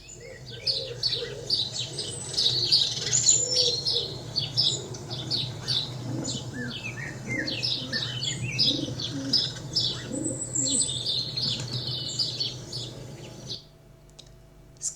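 A lively mix of birds chirps and tweets continuously, with soft coos underneath, before the sound cuts off near the end.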